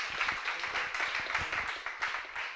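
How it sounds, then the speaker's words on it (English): Audience at a sports and education conference in Rome clapping steadily for a short burst, a mid-sized crowd of hands patting in an uneven rhythm, fairly close and moderately loud. "Applause for Volkan."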